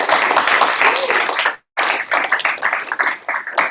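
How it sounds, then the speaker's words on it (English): Audience applause fills a union meeting hall, dense sustained clapping from many hands that breaks off briefly, then resumes just as strongly for the rest of the stretch. "Applause."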